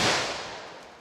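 .357 SIG pistol shot at an outdoor range: a single loud, sharp crack already ringing as the sound begins, decaying over about a second into a broad, fading echo.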